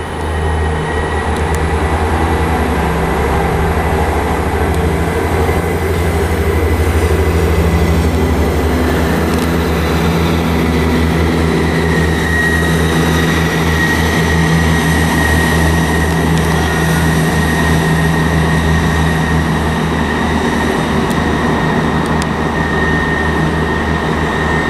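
A ScotRail Class 158 passenger train rolls steadily into Stirling station with a continuous heavy rumble and droning engine tones, loud and close, lasting the whole stretch with no talking.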